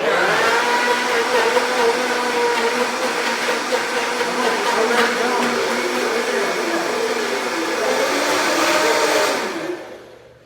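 A Vitamix blender whirs loud and steady while blending a celery smoothie, its motor holding a strong high whine for about nine seconds before spinning down and cutting off near the end.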